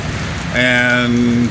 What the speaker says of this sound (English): It's been raining steadily for over a half hour.